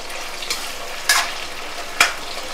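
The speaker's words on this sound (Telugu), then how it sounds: "ఇదిగోండి ఇవి కొంచెం దోరగా వేగనిద్దాము" Raw prawns frying in a pan for gongura pickle, a soft steady sizzle close up, with two or three sharper stirring scrapes and spits rising above it.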